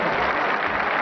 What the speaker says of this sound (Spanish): me gustaría que fuera un aplauso unánime que le diéramos a toda la organización del centro